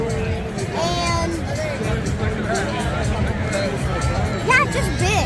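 Crowd chatter of fans at a 2023 concert in Alpharetta, Georgia: a broad, steady babble of many voices and shouts, with a nearby person talking over it.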